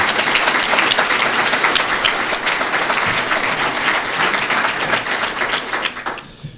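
A luncheon audience at a Special Olympics Nebraska event breaks into loud, dense applause, many hands clapping steadily up close before the sound tapers off at the end.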